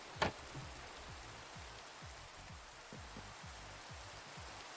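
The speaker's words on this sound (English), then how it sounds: "Oh goody, it's raining IRL and in game." Steady rain falls outside, a soft even hiss of drops on surfaces with a faint thump near the start, heard alone at moderate level.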